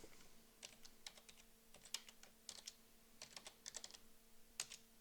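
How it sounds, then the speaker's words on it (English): Fingers type a new object name on a computer keyboard, a quiet run of light, irregular key clicks over a faint steady hum, with no talking. "and now typing in my new name"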